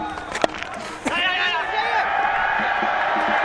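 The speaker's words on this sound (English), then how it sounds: "And the cheer you can hear is for a half century for Ben Curran." Cricket crowd cheering a batter's half century at a one-day international between Sri Lanka and Zimbabwe, a broad sustained roar rising after a few sharp claps and swelling under steady commentary.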